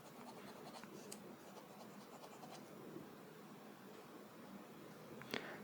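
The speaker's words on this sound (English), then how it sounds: "let's do a quick writing test" A HongDian 517S fountain pen scratches lightly across paper in short strokes, soft and close against faint background hiss, with one sharper tick near the end.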